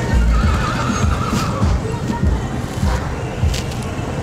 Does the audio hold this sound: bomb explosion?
no